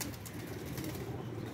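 Blue pigeons in a loft give a brief, quiet, low cooing murmur with faint rustling of movement.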